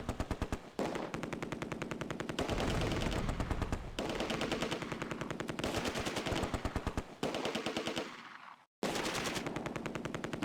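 Sustained machine gun fire rattles through nearly the whole stretch in the WWII strategy game Close Combat: A Bridge Too Far, set at Oosterbeek during Operation Market Garden. Loud rapid bursts overlap, with one brief silent gap near the end.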